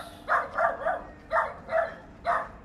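An excited stray dog barking, six sharp close barks in two quick triplets with a short gap between them, loud over a quiet outdoor background.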